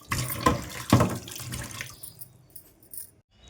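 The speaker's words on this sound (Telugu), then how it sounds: "ఇక్కడ కొన్ని తిన్న ప్లేట్లు ఉన్నాయి కడిగేసి" Used plates are washed under running tap water, with splashing, clattering bursts of water up close that taper off to a quieter trickle and light clinks.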